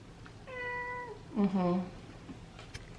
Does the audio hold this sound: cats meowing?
yes